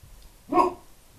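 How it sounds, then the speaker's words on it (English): A household dog gives a single sharp bark, fairly close and loud, standing out from an otherwise quiet indoor room with no talk. "They have been barking at anything."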